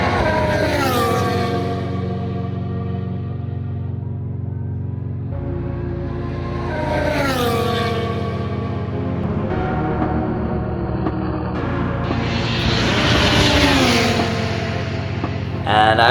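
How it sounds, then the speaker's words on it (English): Formula 1 cars scream past at the Emilia-Romagna Grand Prix, three loud high-pitched engine passes with sweeping Doppler whines, one after another, heard from the trackside crowd area. "it was time to see F1 cars for the first time in action"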